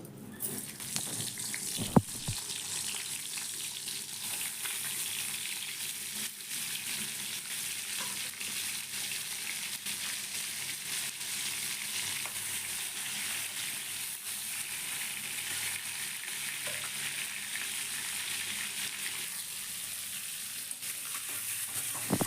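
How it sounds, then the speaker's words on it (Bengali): Pointed gourd (potol) pieces frying in hot oil, a loud, continuous hiss and crackle that holds steady throughout with faint stirring. "এখন আমি পটলগুলোকে তেলের মধ্যে খুব ভালো করে ভেজে নেবো"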